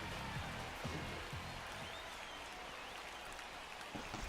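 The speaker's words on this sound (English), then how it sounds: "This Toronto crowd's a bit excited" A baseball crowd in Toronto cheers after a strikeout, heard as a faint, distant, steady wash of stadium noise with scattered claps.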